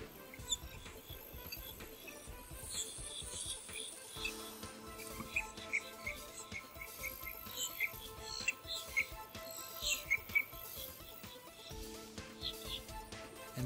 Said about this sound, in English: Hey, it's the Fruit Loops bird.